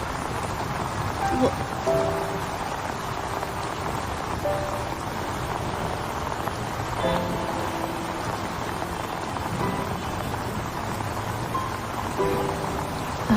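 Rain falls steadily in a broad, even hiss that runs the whole time, with brief voices and faint tonal sounds briefly rising above it now and then.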